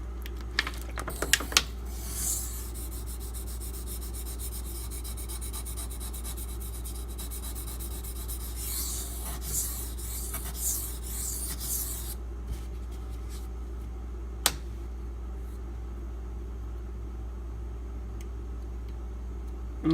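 A knife edge is drawn across a whetstone with light pressure, giving soft, faint scraping strokes over a low steady hum, with a few sharper ticks and a short pause late on.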